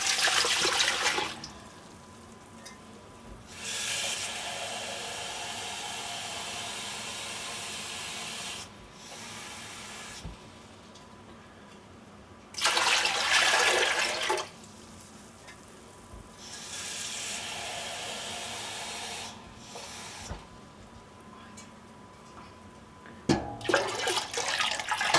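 Water pours into a cooking pot in several separate bursts, 2.5 litres added to crushed dried mushrooms for a yarn-dyeing dye bath; loud gushing spells alternate with quieter stretches.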